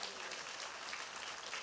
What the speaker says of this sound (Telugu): గట్టిగా చప్పట్లు కొట్టి ప్రభువుని స్తుతించాలి.